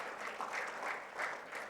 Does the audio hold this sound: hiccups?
no